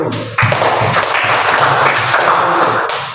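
Applause from a class of students during a mathematics lesson, a dense burst of clapping that starts abruptly and holds steady for a few seconds before tapering off.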